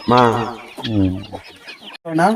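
Native country chickens kept for about eight years on a forested farm cluck loudly and close by in a few quick, throaty calls with a brief pause between them.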